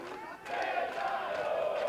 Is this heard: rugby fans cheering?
yes